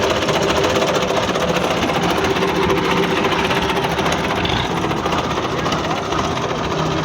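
Belarus 510 tractor engine running while parked at a sugarcane weighing station, a loud continuous rattling chug held steady throughout.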